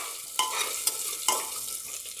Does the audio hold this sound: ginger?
yes